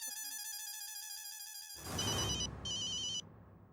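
A phone ringtone plays a repeating electronic melody, then cuts to a louder, harsher ringing in two bursts before stopping.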